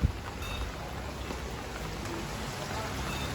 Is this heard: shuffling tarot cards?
no